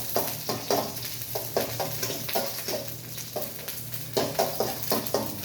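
Onions fry in a pan, a steady crackling sizzle broken by repeated scraping stirs in an irregular rhythm, close and moderate in level, with no talking over it.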